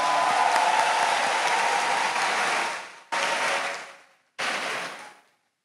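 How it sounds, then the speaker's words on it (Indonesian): Applause from a school audience at a pondok pesantren accountability report event, honoring a student's first-place district preaching award: dense sustained clapping that fades, then two shorter bursts, with no talk. "Tepuk tangan untuk Ananda Muhammad Akbar"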